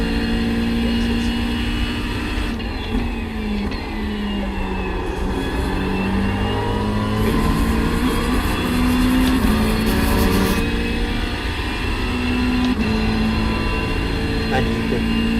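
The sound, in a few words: race car engine driving laps in iRacing video game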